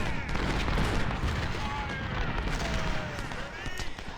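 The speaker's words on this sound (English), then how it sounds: "it's looking like it's just cannons" Cannon fire rumbles through a Civil War video game battle at Stones River, a dense, continuous barrage of deep booms and crackling blasts that overlap without pause, loud and heavy throughout.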